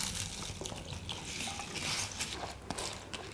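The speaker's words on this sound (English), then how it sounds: "This is urad dal. Wash it." Urad dal being washed by hand in water, a soft continuous swishing and sloshing with light splashes, close but fairly quiet, without any talking.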